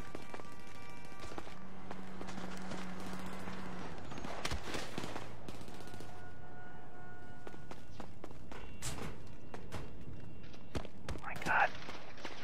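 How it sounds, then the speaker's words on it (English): Footsteps in the video game Grand Theft Auto 5, an irregular patter of steps mixed with other game noise, brief tones and sharp clicks, fairly faint throughout. "I hear footsteps."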